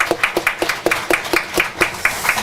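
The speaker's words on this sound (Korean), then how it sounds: "영광 받으신 하나님께 우리 한 번 더 영광과 감사의 박수 힘차게 올려드립니다" Clapping rings out in a church service, a strong, regular rhythmic beat of about a dozen sharp claps in unison, close and loud.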